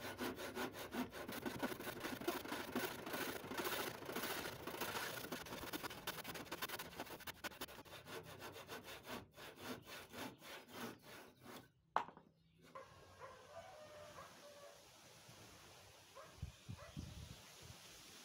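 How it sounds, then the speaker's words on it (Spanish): Handsaw cutting two small pieces of wood at a 45-degree angle, a steady rasping back-and-forth stroke rhythm for about twelve seconds, close and fairly loud, then a brief pause and quieter scraping and handling noises. "con el serrucho vamos a cortar 2 maderitas a 45 grados"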